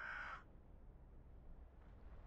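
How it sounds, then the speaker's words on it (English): A crow caws once in the World of Tanks video game, a short clear call at the very start before a low, quiet ambient hum. "I'm just sitting there hearing crows."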